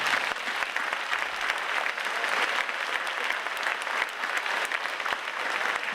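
Applause for eighth-grade students at a school bridging ceremony: a large audience claps in a dense, steady roar that holds loud throughout with no break.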